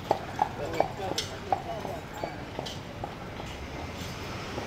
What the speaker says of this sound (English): there's a horse and buggy walking by